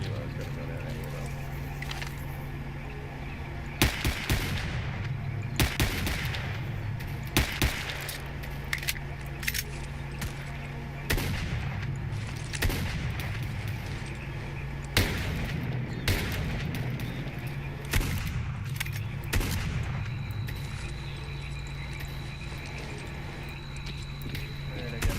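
Gunfire and explosions in the shooter video game Stalker Clear Sky crack out in scattered sharp bursts over a steady background drone, with a player talking throughout.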